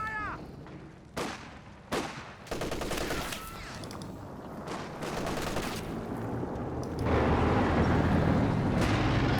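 Machine-gun bursts and scattered gunfire from a Company of Heroes 2 battle rattle in close, dense volleys over a constant rumble of battlefield noise, which swells louder toward the end.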